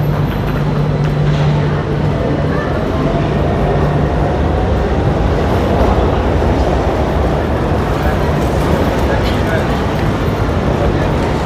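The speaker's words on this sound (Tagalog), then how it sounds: "ang parating ay tinatawag na tram, isa sa pinaka public transport dito sa Milan" A tram on a Milan street passes with a loud, continuous rumble and rolling rail noise under busy traffic, while people talk nearby.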